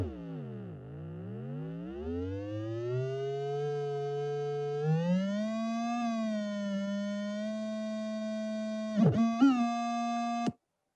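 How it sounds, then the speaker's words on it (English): A sonification of stock market data from 2007 through 2011 plays as a pure, synthetic tone with bright overtones. It swoops low, then climbs and steps between pitches for about ten seconds, with a few sharp glitchy jumps near the abrupt end. "here is a sonification of the stock market from 2007 through 2011"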